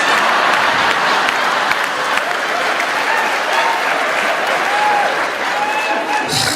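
A podcast audience applauds in a steady, dense burst, close and loud throughout, with a faint bit of crowd noise mixed in.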